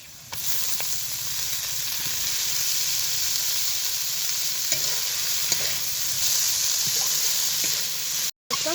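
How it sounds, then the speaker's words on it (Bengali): Steady oily sizzling of drained bathua greens frying in a pan, a continuous bright hiss with occasional stirring clinks, no voices. "সময় নিয়ে একটু শাকটা ভেজে নেব।"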